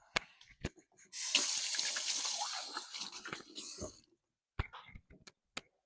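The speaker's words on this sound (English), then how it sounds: "Let me wash my hands real quick." A kitchen tap runs steadily for about three seconds while hands are washed under it, close by, with a few sharp clicks and knocks before and after the flow.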